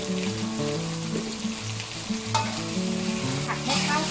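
Sausages stir-fried in a pan for a Thai red-sauce sausage dish, with loud, continuous sizzling and scraping strokes of a spatula, growing busier toward the end.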